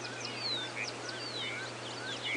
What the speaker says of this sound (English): the canaries calling.